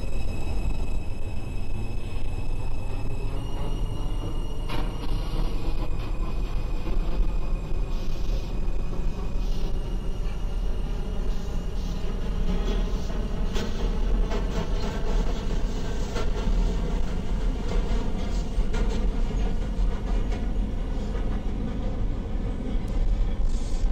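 A subway train from the OpenBVE simulator game runs continuously, with a steady rolling rumble, hiss and motor whine that change tone in small steps, with no voices.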